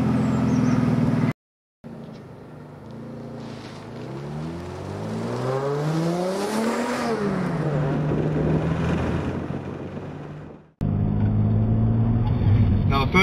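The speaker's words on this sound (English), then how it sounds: "So all that's left now is to drive and see what it's like." An MG ZS 180 2.5 V6 saloon car drives off, its engine revving and rising in pitch through the gears, then settling into a steady cruising drone, fairly loud and close, between brief cuts.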